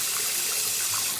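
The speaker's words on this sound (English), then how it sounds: "Now I'm switching it to cold water and really rinsing out." A makeup brush is rinsed under a cold running tap, a steady broadband rush of faucet water splashing into a sink, close and continuous with no voices.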